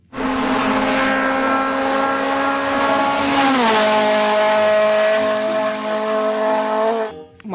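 Toy race car sound effect: a loud, steady engine roar holds, dips in pitch midway as if passing by, then carries on evenly before cutting off abruptly.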